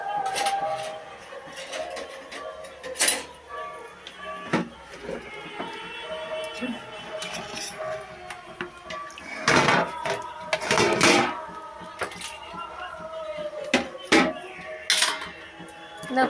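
A spoon and dishes are handled in a home kitchen, giving scattered light clinks and clatters at irregular intervals, with a few sharper knocks standing out near the end.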